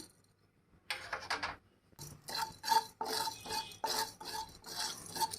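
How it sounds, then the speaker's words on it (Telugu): Garam masala is stirred as it fries in a pan, making scraping, rubbing and metallic clinks that come in uneven bursts after a quiet start. "గరం మసాలా అండి కొంచెం ఫ్రై చేసుకుందాం"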